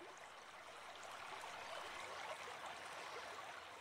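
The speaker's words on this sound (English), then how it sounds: "the soothing sound of the water as it flows steadily past" River water flows steadily past as a soft, even rushing and trickling wash, faint and unbroken, with no voices over it.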